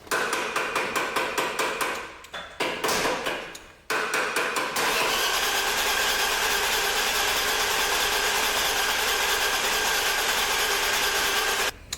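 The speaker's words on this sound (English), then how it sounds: "Tapping the starter." A metal tool hammers rapidly on the starter motor of an E34 barn-find car, a fast, loud rhythmic tapping that stops briefly twice, then gives way to a steady, harsh grinding churn.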